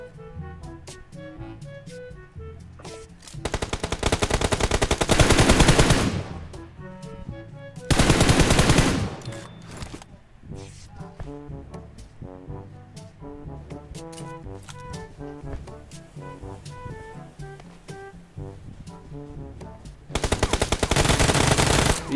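Automatic and single gunfire from the mobile battle royale game PUBG Mobile, with dense rapid bursts crackling loudly around the 4–6, 8 and 21 second marks, lighter shots and in-game sounds scattered between, no talk.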